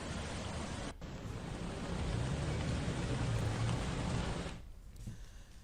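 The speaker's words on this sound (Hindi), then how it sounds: "आसमान से आफत की बारिश बरस रही है" Heavy monsoon rain pours down during flooding in India, a dense, loud, continuous hiss that holds steady with no talking, broken only by a brief dip near the start and a softer fade toward the end.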